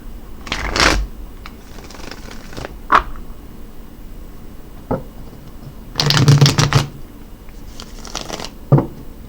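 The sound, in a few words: shuffling Crystal Vision Tarot cards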